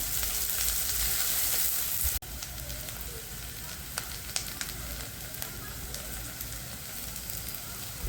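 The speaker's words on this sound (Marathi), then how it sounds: "आपण जरा छान मऊ होईपर्यंत आपण भाजून घेणार आहे." Ingredients for a pea and paneer kofta curry fry in a pan until soft. There is a continuous close sizzle with scattered pops and crackles, and no one speaks.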